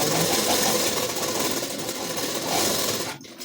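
Loud, continuous whir of a sewing machine tacking a seam on a ladies suit, running steadily before cutting off near the end.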